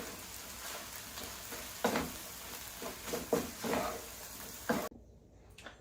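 Vegetables salted and softening in a pan hiss with a faint, steady sizzle, broken by a few louder scrapes of stirring before the sound cuts away to near quiet at the end.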